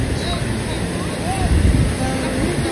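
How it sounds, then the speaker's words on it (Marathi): A hidden waterfall on the Pachnai route to Harishchandragad fort in the Sahyadri gives a continuous broad rush of falling water, with people talking over it. "आणि हा आहे हिडन वॉटरफॉल"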